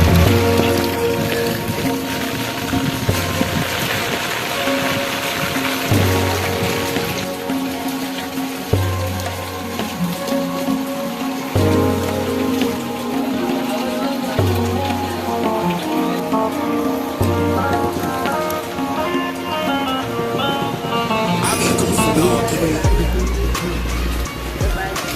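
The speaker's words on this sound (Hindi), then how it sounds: "तेज़ बारिश हो रही है" Heavy rain pours steadily and loudly on surfaces, with music playing over the downpour throughout.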